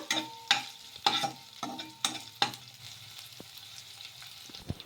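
A little oil in a pan with chopped garlic being fried, short stirring scrapes and clatters recurring at a steady pace over a soft sizzle, close and moderately loud.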